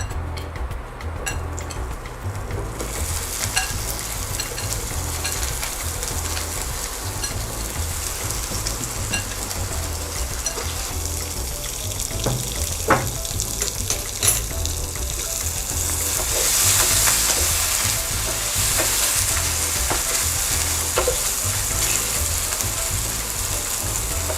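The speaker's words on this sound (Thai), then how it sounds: "รอน้ำมันร้อนนิดนึงนะคะ ใส่ไข่ขาวของเราลงไปเลยนะคะ" Egg whites frying in hot oil give a steady, moderately loud sizzle with bubbling crackle, occasional clinks from utensils, and a brief brighter hiss swelling midway.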